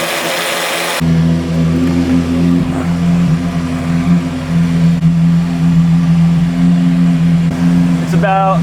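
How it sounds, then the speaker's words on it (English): A powerful Lamborghini Aventador sports car engine idles while warming up, with a steady, droning hum, loud and close, while a person talks over it. "while we're letting the car warm up"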